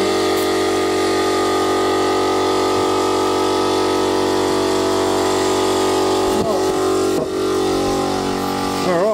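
Steady droning hum of an air pump inflating a Toyota Landcruiser 200 Series spare tyre, loud and continuous throughout, with a couple of squeaky bead pops near the end.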